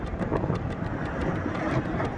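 A Poonamallee metro train rolls past close by with a continuous rumbling roar and regular clickety-clack wheel beats on the rails.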